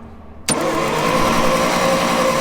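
A 6x6 spud truck engine turned over by the starter, beginning with a sharp mechanical clunk and then a loud, steady, droning crank that continues up close without stopping.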